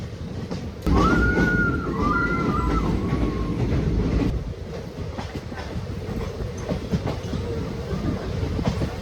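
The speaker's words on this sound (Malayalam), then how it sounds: "മലനിരകളുടെ താഴെ കൂടെ ആയിട്ട് നമ്മുടെ ട്രെയിൻ ഇപ്പോൾ പോകുന്നത്" The Guruvayur-Madurai Express, hauled by a WDG 4B locomotive, rolls slowly downhill beneath mountains, with steady rumble and wheel clatter, a short squealing brake-like whine near the start, continuous and close.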